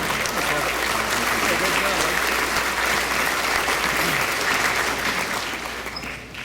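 A crowd gives sustained applause for superintendent Dr. Marty Crawford at a school ribbon cutting in Tyler, Texas, a dense continuous roar of clapping that fades slightly at the end.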